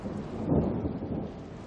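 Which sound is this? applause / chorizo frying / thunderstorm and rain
thunderstorm and rain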